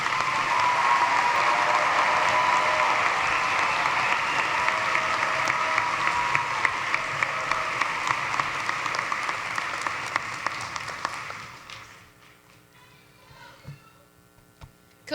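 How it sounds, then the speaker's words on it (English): A large graduation-ceremony crowd gives sustained, dense applause for the Parkinson School of Health Sciences graduates. The clapping slowly thins and then fades out near the end, leaving a few scattered claps over a low room hum. "Please give all of them a hand."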